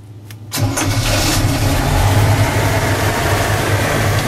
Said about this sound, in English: clear, starting the airboat, and you turn the ignition key on